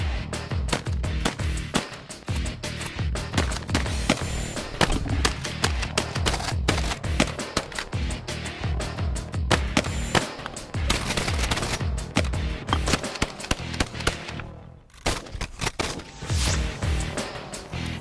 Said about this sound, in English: only one pump action shotgun thinks it's an autoloader